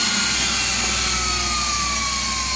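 A Swiwin model turbine engine runs steadily with a broad, loud roar and a high whine that slowly glides lower, close and continuous with no talking.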